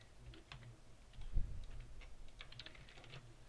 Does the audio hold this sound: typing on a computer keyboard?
yes